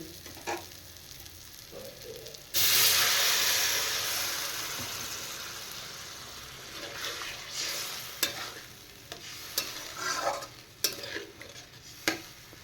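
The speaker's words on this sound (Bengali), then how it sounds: "এবার আমি দিয়ে দেব পরিমাণ মতো জল" Water poured into a hot pan of frying potatoes and lentil bori bursts into a loud hiss and sizzle that slowly fades, followed by scattered stirring scrapes and clinks.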